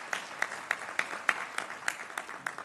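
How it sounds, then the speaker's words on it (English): An audience at a business summit claps, a sparse round of applause from a few hands with distinct separate claps at a steady, moderate pace, fairly faint and distant. "One more time, please, a round of applause for the Honorable Newman"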